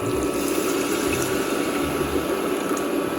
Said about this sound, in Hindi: 1 कप पानी डाल रही हूँ इसके अंदर।